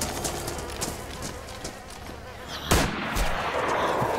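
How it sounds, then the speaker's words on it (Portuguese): Gunfire at zombies in the survival game DayZ: a sharp shot cracks out once over a steady background hiss, fairly loud and close. "Agora eu vou ter que atirar nos zumbis."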